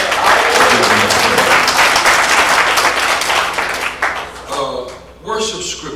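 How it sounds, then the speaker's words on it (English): A church congregation claps hands during worship, a loud, dense burst of clapping that holds steady before thinning out and fading near the end. "clap your hands"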